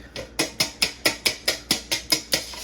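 Eight large eggs are beaten with a whisk for a bread pudding mixture, giving a quick, even run of about ten rhythmic scraping strokes against the bowl, close up.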